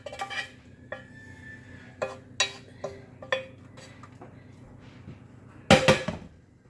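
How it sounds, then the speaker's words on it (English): Cooked eggs, done well, being set into the bottom of a casserole pan, with scattered clinks and light scrapes of utensil on pan against a low steady hum, ending in one louder clatter near the close. "first thing I'm going to do is I'm going to put my eggs in the bottom here"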